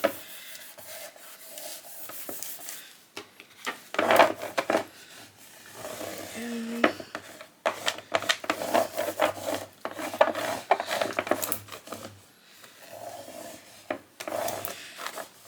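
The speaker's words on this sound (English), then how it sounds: "Scraping it down real good." A craft tool scraping down vinyl on a chalkboard surface while making Christmas decor: irregular dry rubbing and rasping strokes in short bursts, fairly faint and close, with soft voice-like sounds and small clicks between strokes.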